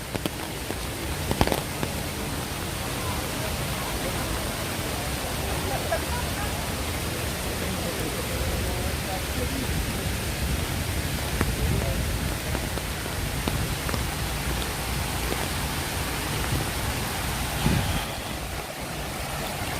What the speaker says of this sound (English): You hear the rain? Thank God we have umbrella today.